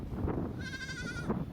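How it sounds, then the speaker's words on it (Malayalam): A goat among stony ground in Djibouti lets out a single wavering bleat, clear and fairly close, over faint outdoor background noise. "ഒറ്റപ്പെട്ട ആടുകൾ ഇവിടെയുണ്ട്"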